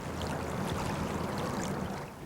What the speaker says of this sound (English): This is the sound of a gentle Connecticut River